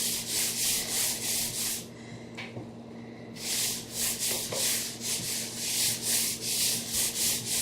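Hands rubbing a dry spice rub into raw pork ribs, a steady, close rhythmic scrubbing and rasping that repeats in quick strokes, with a brief pause midway and no talk.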